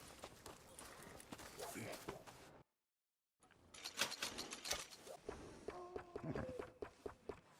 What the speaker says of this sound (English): And a fine new horse.